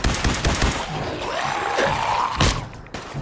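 Institute rifle fire in Fallout 4 aimed at a ghoul from a distance: a quick run of sharp energy-weapon shots in the opening second, a lone crack further on and a louder blast near the end, with a sweeping tone fading in between.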